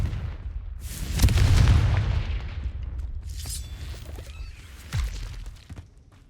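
A fire spell bursting into a rumbling explosion in the Hogwarts Legacy video game, a heavy boom swelling then fading with crackling debris and a second sharper thud near the end.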